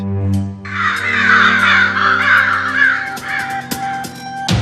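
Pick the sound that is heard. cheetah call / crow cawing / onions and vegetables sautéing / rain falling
crow cawing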